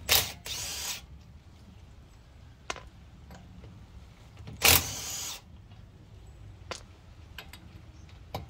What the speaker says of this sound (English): So if this doesn't convince you to get an impact driver, nothing else will.